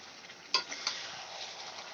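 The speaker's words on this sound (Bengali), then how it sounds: "আমি এই সময় আদা রসুনের পেস্টটা দিয়ে দেব এবার দিয়ে আস্তে আস্তে কষিয়ে নেব" Ginger garlic paste and chicken sauté slowly in a pan for methi chicken, a soft steady sizzle with a couple of light spoon clinks and stirring scrapes, fairly quiet and close.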